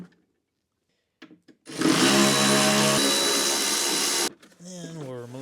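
A power tool whirs loudly and steadily for a couple of seconds while unbolting the side bags on a Yamaha Royal Star 1300 V4 motorcycle, after faint clicks, with someone speaking right after it stops.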